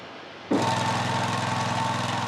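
An Aebi CC66 alpine slope mower with a modified carburetor float is heard as its engine suddenly kicks in after a quieter lead-in, then runs with a loud, steady, buzzing drone at close range.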